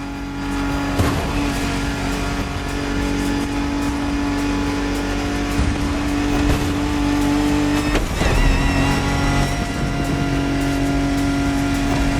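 A Ford Bronco driving on Oahu in The Crew Motorfest racing game gives a loud, steady engine drone with strong tonal hum and occasional tire scrubs and surges, continuous throughout with no talking.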